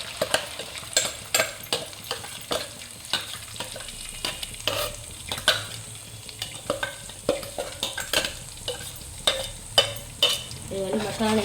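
Spiced masala with cumin seeds frying in a pan, stirred with a spoon: a continuous sizzle broken by frequent sharp scraping strokes in an uneven rhythm, close and fairly loud, with no talk.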